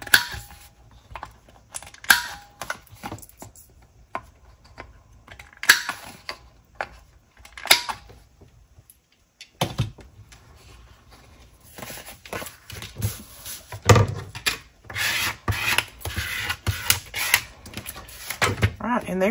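A corner rounder punches planner divider tags with a string of sharp clicks and mechanical clacks, interspersed with paper rustling and handling noise, some louder bursts near the end.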